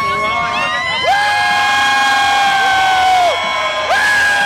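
Concert crowd cheering for a band, loud shouts and whoops rising over a sustained roar of voices, close and energetic.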